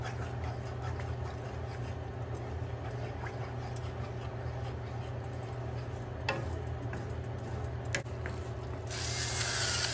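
Fresh black pepper cracked from a hand pepper mill over pork chop gravy, a steady, close, gritty ratcheting grind running continuously with no talk.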